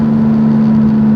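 An 850-horsepower MK5 Supra pulling hard in fifth gear, a loud steady engine drone with a strong tonal hum and heavy road and wind roar, heard from inside the car with no talking.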